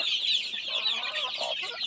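A flock of native and Red Island chickens, some birds weighing three to four kilos, clucks and chatters continuously on a rural farm, a busy overlapping chorus close by with no talking.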